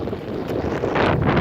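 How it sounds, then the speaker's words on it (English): Wind buffets the microphone on a nature trail, a loud, close, low rumbling gust that builds and strengthens toward the end, with faint rustling and no talk. "Man, it's windy down here."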